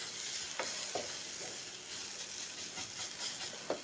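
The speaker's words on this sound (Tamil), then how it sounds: "ஸோ இப்போ நீங்கள் மிக்ஸ் பண்ணிக்கோங்க" A flour roux for pepper pasta is stirred and roasted in a hot pan, giving a steady frying sizzle broken by several short scraping strokes of the spoon.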